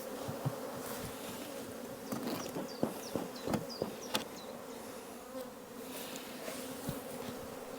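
Honeybees swarm around a hive on orientation flights, a constant close buzzing hum with individual bees zipping past loudly now and then.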